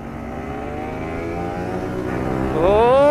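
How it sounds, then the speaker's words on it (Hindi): Four motorcycles set off together on a group ride, their engines droning steadily before one revs up sharply near the end, rising in pitch and loudness close by. "तो चारों बाइक निकल चुके"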